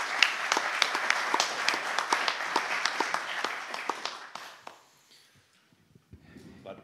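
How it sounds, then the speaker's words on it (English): Applause at the opening session of a LibreOffice conference: clapping with distinct individual claps from a modest audience, lively at first, then thinning and fading to near silence before faint room noise returns. "just maybe another round of applause for that"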